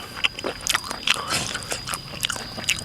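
Close chewing and biting of a boiled frog with its eggs, wet crunchy bites and mouth sounds coming in quick irregular bursts.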